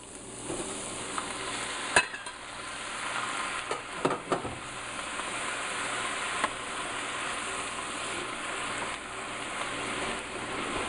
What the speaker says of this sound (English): We're just going to let this cook down into a sauce with the heat